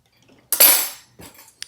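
Fork clinking and scraping against a plate or pan while twisting spaghetti carbonara into a nest for plating: one loud metallic scrape, then a couple of quieter clinks, close and with no talk.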